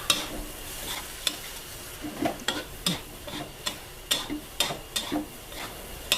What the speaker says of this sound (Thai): คั่วต่อ